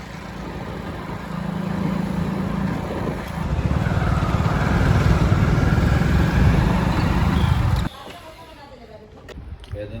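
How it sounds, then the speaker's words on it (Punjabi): A motorcycle engine runs with a steady drone that rises in intensity, then cuts to quieter background noise near the end. "ਥਾਣੇ ਦੇ ਮੋੜੇ ਹੀ ਮੋਟਰਸਾਈਕਲ ਚਲਾਈਦਾ ਭਈਆ"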